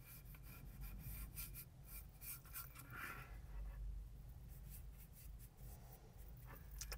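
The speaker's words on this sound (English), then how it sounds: "I take the edge of my brush and I go over the side sideways." The edge of a brush is rubbed sideways over a paper collage, making quiet scratchy rasping strokes in an irregular rhythm, faint and close, with no talk.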